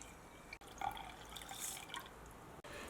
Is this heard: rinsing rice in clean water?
yes